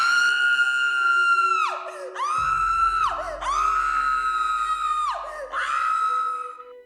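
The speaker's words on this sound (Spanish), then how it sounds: "Un grito de espanto suspendió la misión." A drawn-out, high, wavering shriek of terror, repeated in several long rising and falling cries, loud and close, with a low rumbling bed coming in partway through.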